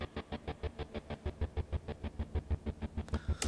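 Buzzy picking synth patch in Logic Pro, sounding like a distorted guitar: rapid, evenly spaced plucked pulses repeating about six times a second, steady and close, ending with a brighter smear.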